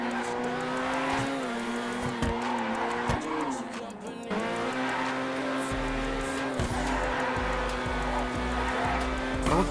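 A car weighing about 1.8 tonnes is driven hard through corners, its loud engine droning and revving close by with rising and falling pitch and occasional tyre noise, continuous throughout.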